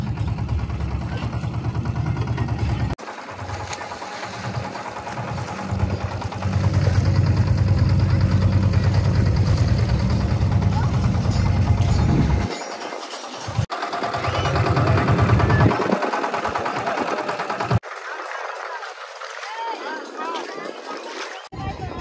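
A small fishing boat's engine drones on through a Narali Purnima outing at a Koli fishing village on the water, a steady mid-pitched rumble with splashes and shifting wind, while voices chatter and shout over it.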